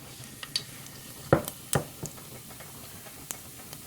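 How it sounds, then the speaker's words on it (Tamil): Mustard seeds spatter in hot cooking oil in a pan, giving irregular sharp pops and crackles. Two louder snaps stand out over a faint sizzling background, with no talking. "கடுகு பொரியுது."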